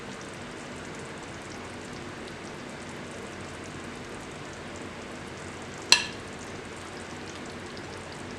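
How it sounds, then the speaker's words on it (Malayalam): King fish curry boils steadily in a pot, a soft continuous bubbling hiss broken once by a sharp metallic clink. "അപ്പം നമ്മുടെ കറി നന്നായി തിളച്ച് തുടങ്ങിയിട്ടുണ്ട്."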